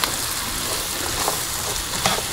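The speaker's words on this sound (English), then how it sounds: "And then we want to start stirring it up." Sliced onions and peppers for fajitas frying in a hot pan give a loud, dense, even sizzle, with a few faint stirring taps close by.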